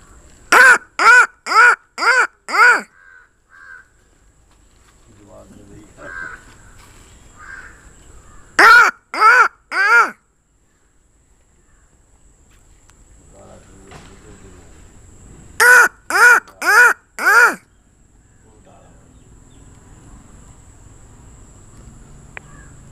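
Crows cawing in answer to a man imitating crow calls on a rooftop, sharp loud bursts of four or five caws in quick series, repeated three times with quieter gaps of ambience and faint murmuring between.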